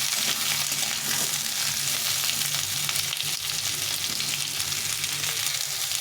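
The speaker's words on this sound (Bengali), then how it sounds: "সজনা আর আলুটা ভালো করে ভেজে নিতে" Drumstick (moringa) pods and potato frying together in a pan, a steady dense sizzle and crackle throughout, close and even, with faint stirring scrapes and no talking.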